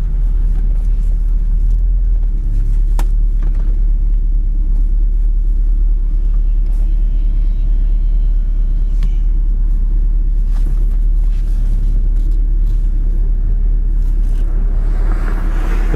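A 1967 Lincoln convertible drives along with its engine running smoothly, a loud, constant low rumble with road and wind noise and no talking.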